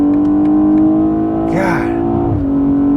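BMW 840i xDrive Gran Coupe with M Sport package and 8-speed automatic pulling at full throttle, a loud steady engine drone heard from inside the cabin, rising briefly as it shifts, with a voice exclaiming partway through.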